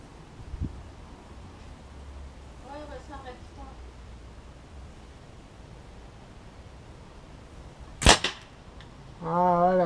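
Soeger XM1-Sport air rifle firing a pellet: a single sharp, loud crack near the end amid quiet background noise, with faint talk nearby.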